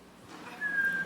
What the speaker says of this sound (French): Et si jamais vous entendez quelque chose, sifflez.